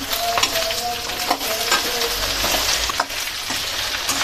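Okra frying in oil in a pan, with a loud, steady crackling sizzle and occasional clinks and scrapes of a spoon stirring it.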